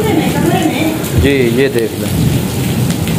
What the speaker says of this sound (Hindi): ये देखें बारिश ही बारिश,